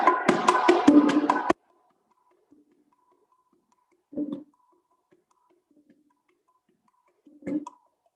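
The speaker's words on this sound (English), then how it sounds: "So the martillo played with the two drums sounds like this." Bongos, a pair of small Latin jazz hand drums, play a martillo rhythm: a quick, even run of sharp, close slaps lasting about a second and a half, then near silence broken by two isolated softer hits.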